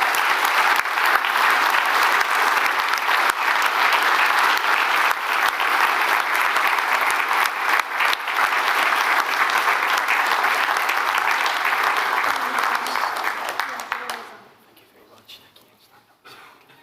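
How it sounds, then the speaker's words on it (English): An audience at an award ceremony applauds recipients with sustained, loud clapping that carries on for about fourteen seconds before fading out into quiet room noise. "give them a big clap"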